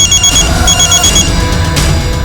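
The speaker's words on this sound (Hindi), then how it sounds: "सर, सरस्वती का फोन था।" A telephone rings loudly in a TV crime drama, with bright repeated electronic tones pulsing over a dense backing score.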